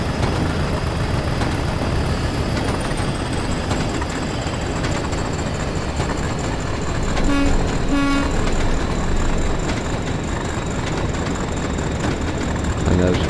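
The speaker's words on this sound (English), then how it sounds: "there's a train that's just come past me there as well" A train rumbles steadily past in the Train Sim World game on the Tees Valley Line, a loud continuous roll with brief horn-like toots midway, while someone talks over it.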